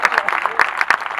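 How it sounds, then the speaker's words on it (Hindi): Audience clapping at a Hindi comedy poetry gathering (hasya kavi sammelan), a brief burst of dense applause with uneven peaks, filling the short moment. "समझ में आ गई तो ताली बजा दीजिए एक बार।"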